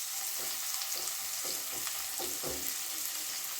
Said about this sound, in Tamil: ஸோ நல்லா வந்து நமக்கு டீப் ஃப்ரை ஆகட்டும்.